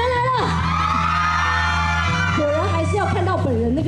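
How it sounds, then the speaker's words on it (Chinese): Fans scream and whoop for a South Korean actor at a public appearance, a sustained high-pitched crowd shriek rising and falling behind a nearby speaking voice. "那个尖叫声"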